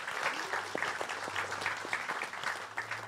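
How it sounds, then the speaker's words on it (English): Audience applause for a panel member being introduced at a gaming fan event, a steady wash of clapping with a faint low hum running beneath. "A round of applause."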